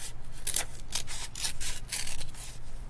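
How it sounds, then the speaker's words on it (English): Big scissors snip repeatedly through paper, a series of crisp short cuts in an uneven rhythm, close and fairly quiet with no talking. "Use those big scissors."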